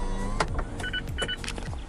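Electric motor whir of a convertible car roof retracting, with mechanical clunks and short electronic beeps in quick succession, close and moderately quiet.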